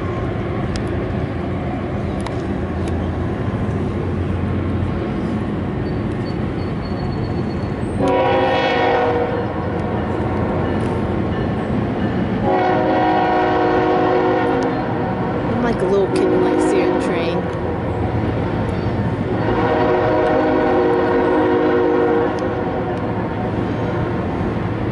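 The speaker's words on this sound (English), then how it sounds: "Train going over the bridge, and I am on the Kiski Railroad Bridge for the very first time." A freight or passenger train rolls across the Kiski Railroad Bridge where the Kiski River meets the Allegheny, its loud continuous rumble and rattle broken by horn blasts, with people talking nearby.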